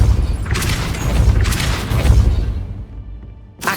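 A spell effect from the Hogwarts Legacy video game, the Depulso force-push charm, comes as a series of loud booming, whooshing blasts with rumbling tails over nearly four seconds, then a brief drop before a final sharp burst.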